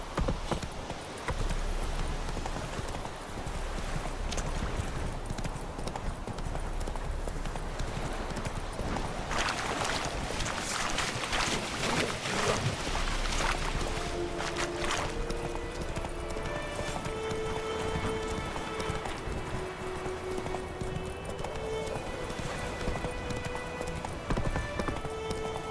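Roach, the horse from The Witcher 3, gallops with continuous rhythmic hoofbeats and a brief whinny, backed by a swelling musical score.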